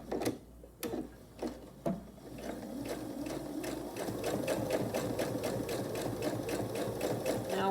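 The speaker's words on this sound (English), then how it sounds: "I'll take it to the machine. I'll sew an 1/8 inch seam allowance all around my folded edge." A sewing machine stitches an eighth-inch seam on a vinyl pouch, starting with a few short bursts, then settling into a fast, continuous, close mechanical whir.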